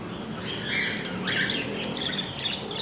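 Pet budgerigars in a home aviary setup give a busy mix of chirps and scratchy squawks, moderately close, over a steady background hiss.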